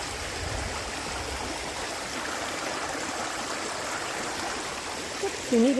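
A mountain stream beside the Appalachian Trail pours steadily, a broad, even rush of flowing water filling the whole stretch at close range, with a brief faint tonal blip near the end.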